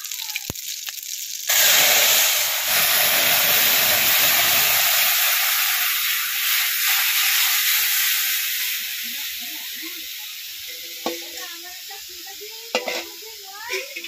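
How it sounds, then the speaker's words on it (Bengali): Dried chillies and whole cumin seeds crackle in hot oil, then the tempering is poured into a taro and fish curry, bursting into a loud, steady sizzle that hisses on and slowly fades, with faint stirring clinks near the end. "তেলের মধ্যে দিয়ে দেবো গোটা জিরা ফোড়ন, 2 পিস শুকনো লঙ্কা। এবার তরকারিতে ঢেলে দেবো।"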